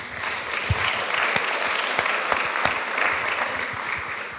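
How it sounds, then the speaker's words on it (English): A lecture audience applauds steadily in a hall, a dense wash of clapping with a few sharper claps standing out, close and sustained throughout. "how about a round of applause and thank you for Jim."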